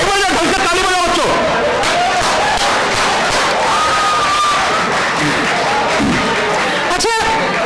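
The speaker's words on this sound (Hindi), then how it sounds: "एक बार ढंग से ताली बजाओ बच्चों" Audience of students at a Hindi comedy poetry gathering in Moradabad, clapping and cheering loudly and continuously as a dense, noisy crowd, with shouts rising over the applause.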